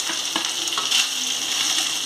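Chicken frying with ginger garlic paste in a pan: a loud, dense, hissing sizzle runs throughout, close up, with a few light stirring clicks and no speech.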